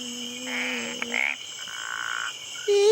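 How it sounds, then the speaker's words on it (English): A frog croaks in a children's noise game, several buzzy ribbit calls in short bursts separated by pauses, clear and close with no talking. "It's a frog, isn't it, Byron?"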